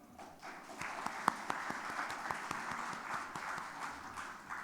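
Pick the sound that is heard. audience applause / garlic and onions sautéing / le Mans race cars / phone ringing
audience applause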